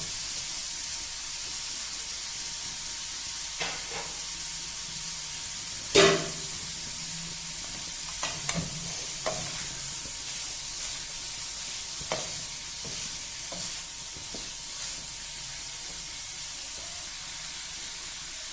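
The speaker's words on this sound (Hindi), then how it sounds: "आपने इस मिक्सचर को मीडियम फ्लेम के ऊपर फ्राई करना है" Cabbage and mixed vegetables frying lightly in a pan over a medium flame give a soft, steady sizzle, broken by a few sharper clatters of stirring and a louder clank near the start.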